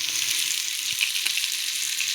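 Rava-coated bangude mackerel fry on a hot tava with a steady, close crackling sizzle, one faint knock from a utensil partway through.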